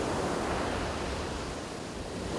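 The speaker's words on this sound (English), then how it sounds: "The silent rocks that orchestrate the song of the waves." Ocean waves break on the rocks at the Vivekananda Rock Memorial in a continuous dense roar of surf, loud and even throughout with no voices.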